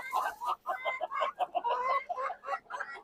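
Chickens on a farm cluck in quick, close, uneven bursts, one call after another with hardly a pause and no talk over them.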